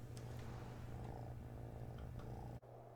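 Loud, close purring from a kitten settled on a lap, a constant low rumbling drone running the whole time with one brief dip near the end and no voices.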